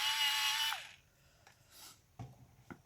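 An Inktense Baked Earth pencil is sharpened in a short burst of hissy, whirring grinding, likely an electric sharpener, followed by a few quiet taps and clicks; near and brief, no talking.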